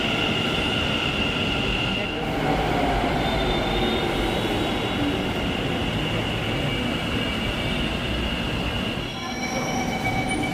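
A metro train pulls into a station, a loud continuous rumble with high wheel squeal rising and falling as it arrives, close by on the platform.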